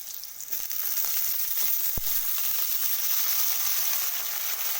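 Eggplant pieces hit hot oil tempered with five-spice (panch phoron), giving a loud, steady sizzle that fills the pan throughout, with one sharp utensil click partway through.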